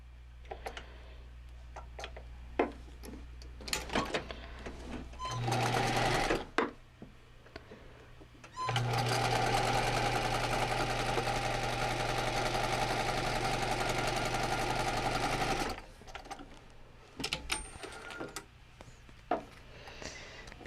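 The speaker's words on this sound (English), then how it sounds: "This is the piece that's gonna stabilize the shoulder, and I just want to stitch it and then flip it and then press it." A sewing machine stitches a shoulder stabilizer piece in two runs, a short burst and then a steady stretch of about seven seconds, with scattered clicks and ticks before, between and after.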